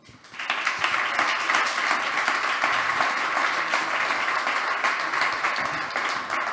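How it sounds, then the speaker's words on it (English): Sustained audience applause at a Demo Day 2022 AI startup pitch event as Professor Dr. Würzner is welcomed, rising quickly and holding as dense, steady clapping from a large crowd with no talking. "Please, warm welcome and big applause for Professor Dr."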